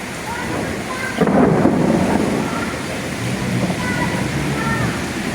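Thunder rumbles through a heavy nighttime rainstorm in Manila, a deep swell rising over the constant loud hiss of pouring rain and then fading back into the downpour.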